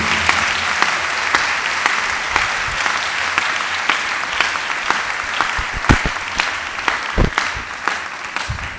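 A church congregation at a Pentecost Sunday Mass claps steadily, a broad even patter of many hands filling the room with a few sharper individual claps standing out.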